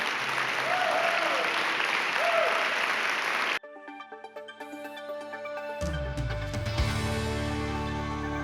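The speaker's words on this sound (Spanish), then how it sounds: "Dale un aplauso al Rey bendito." A church congregation bursts into sustained applause, dense and steady, then the clapping continues under swelling organ or keyboard music.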